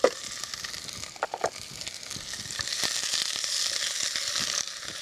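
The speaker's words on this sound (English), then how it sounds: "And we'll fry that until the onions have gone nice and soft." Onions and shallots frying in hot oil in a pot on the stove, a soft continuous sizzle with a few scattered clicks and scrapes of stirring, building slightly louder toward the end.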